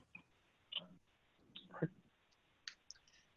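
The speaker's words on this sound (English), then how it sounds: "I'm shuffling a deck of cards right now." A deck of playing cards being shuffled, heard as soft scattered clicks and brief riffling bursts at low level, spread irregularly across a quiet room.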